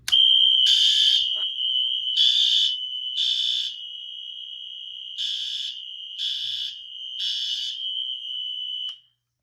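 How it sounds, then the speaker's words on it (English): A Wheelock NS fire alarm sounding on continuous during a demonstration: a loud, steady high-pitched tone running unbroken, overlaid by repeated buzzy horn blasts in a regular pattern, then cutting off abruptly at the end. "if you could hear the alarm on continuous, that was the Wheelock NS over there"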